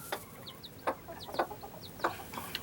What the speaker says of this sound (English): We have two little chicks